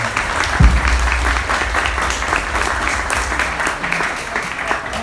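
An audience at a lecture on the crisis of democracy applauds steadily, dense clapping filling the room for several seconds with a brief thump near the start.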